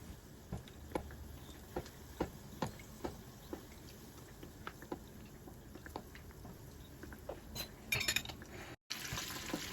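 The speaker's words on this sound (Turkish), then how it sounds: "Isınmış yağ hamuru teker teker alarak kızartalım." Dough pieces fry in hot oil in a pan, a quiet steady sizzle broken by sharp pops and crackles at irregular intervals, with a brief clatter near the end.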